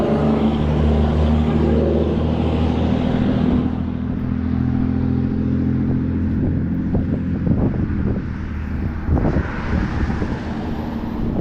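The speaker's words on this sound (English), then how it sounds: "That was an angry sounding Mustang." Loud, rumbling Ford Mustang muscle car engine passing close by on a roadside, with a steady low drone that swells at the start and then eases off, all under wind noise.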